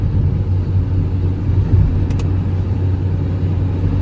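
Steady, close engine rumble and tyre roar from trucks driving in a convoy on a road, a continuous low drone with no pauses and no voices.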